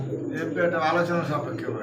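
A pigeon at a pigeon seller's coos softly in a low, rolling burble, close and moderately quiet, while a voice talks over it.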